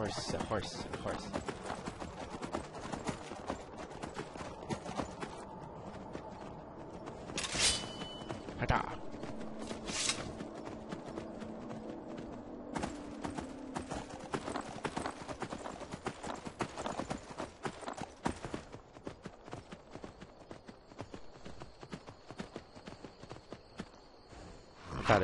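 Rapid clip-clop of horse hooves in Skyrim, steady and rhythmic, under a talking voice with ambient game sounds.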